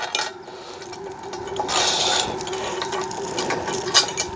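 A metal bolt is pushed through the frame of a large party tent, giving a gritty scraping and ratcheting rasp with a louder rubbing burst midway and a small knock near the end, close up and with no talk.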